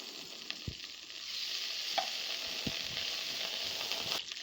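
Two spoons of butter sizzle and fry in a pot on a stovetop, a steady close crackling hiss with a few soft clinks and stirring knocks, no voices.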